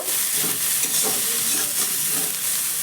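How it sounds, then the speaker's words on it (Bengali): Chopped medium onion and cumin seeds fry in hot oil, a strong steady hiss and sizzle with faint stirring underneath, close and constant without speech. "পেঁয়াজটাকে একটু নাড়াচাড়া করে হালকা করে ভেজে নেব"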